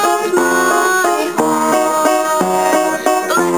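Solo piano plays the verse of a song with left-hand octaves, loud and close, steady repeated chords struck in an even pulse with ringing sustained notes.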